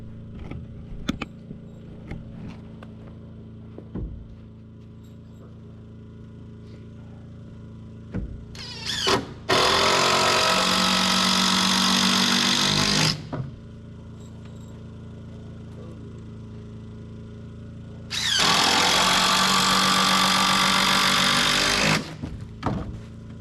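Spray foam insulation being applied to the roof of an A-frame cabin in Gustavus, Alaska, heard as two loud, steady hissing bursts of several seconds each over a low background hum.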